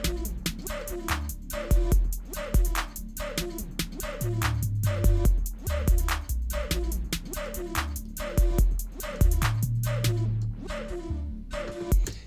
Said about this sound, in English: I'm putting these 808s in as the bass.